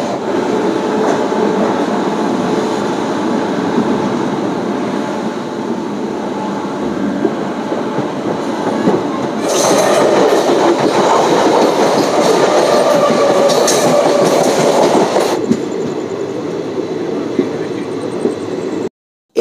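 Gour Express leaving Naihati station and running on, a loud continuous rumble of wheels and carriages with clickety-clack rhythm, swelling louder and brighter midway as it gathers pace, then dropping off abruptly near the end.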